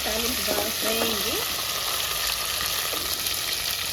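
Tempering sizzles in hot oil in a pan while a spoon stirs it, a close, continuous frying hiss with a few faint tonal sounds over it.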